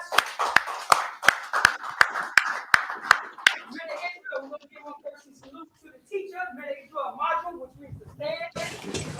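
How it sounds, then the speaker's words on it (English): A group claps in a slow, evenly spaced rhythm of about ten sharp claps, loud and close. The clapping stops and speech follows, then a sudden burst of noise at the end. "Clap it up for the class"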